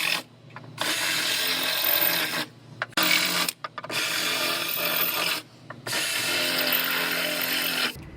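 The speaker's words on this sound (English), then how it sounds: "So I'm gonna drill these out first." A power drill whines in three long bursts separated by brief pauses, grinding steadily into metal at close range, drilling out spot welds on a car floor.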